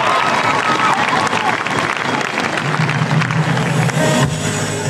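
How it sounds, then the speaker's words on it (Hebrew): An outdoor amphitheater audience at the Karmiel Festival 2025 bursts into loud, dense applause. Many hands clap at once with cheering mixed in, and the applause stays continuous to the end. "כרמיאל, תנו להם מחיאות כפיים. תנו להם כפיים!"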